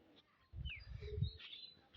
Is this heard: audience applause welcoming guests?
no